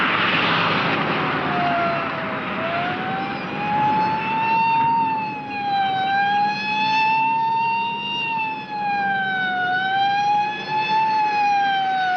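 A police car siren wails close behind, its loud tone sweeping slowly up and down in a steady cycle with layered harmonics, heard alone without voices.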